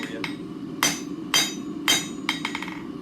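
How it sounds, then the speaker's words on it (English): A forging hammer strikes an anvil that is damped with a piece of chain, giving several sharp metallic blows at an irregular pace, then a quick cluster of lighter taps over a steady low background hum. "I got a piece of chain to help dampen that anvil noise for you"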